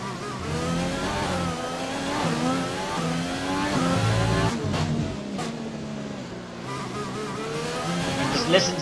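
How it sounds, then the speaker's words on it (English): A Formula 1 race car engine in the video game F1 2020 whines and revs through gear changes, pitch climbing and dropping as it accelerates and brakes, loud and close. "Just listen to the engine through this lap."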